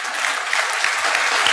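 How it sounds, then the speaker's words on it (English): Applause from a large audience at a type 1 diabetes conference, dense steady clapping that fills the room for the whole moment, no voices standing out. "Let's give her a round of applause."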